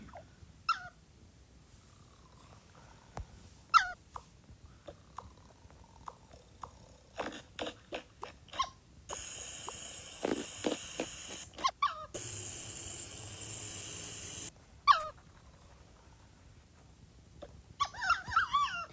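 A dog at a pajama party giving scattered short yelps and whines with soft chewing-like sounds in between, faint and intermittent, broken by a couple of bursts of steady noise.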